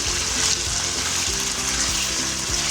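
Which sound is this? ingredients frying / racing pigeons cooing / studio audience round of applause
ingredients frying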